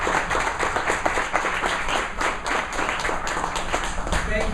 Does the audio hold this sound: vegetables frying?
no